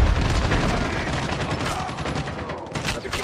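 Heavy, continuous automatic gunfire from a Call of Duty Mobile multiplayer match, loud and dense with overlapping shots throughout.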